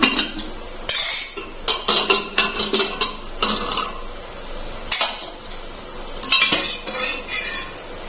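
Metallic clatter and clinks from opening a pressure cooker of boiled lentils, with repeated lid and utensil knocks in an irregular rhythm, close and fairly loud, and no talk.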